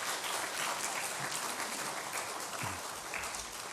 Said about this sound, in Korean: 큰 박수로 환영하면 좋겠습니다.